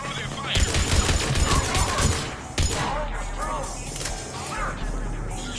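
Rapid gunfire bursts from a firefight in Mass Effect 3, loud and close, mixing with crashing and shattering impacts, then thinning to scattered shots and thuds as voices speak over the battle.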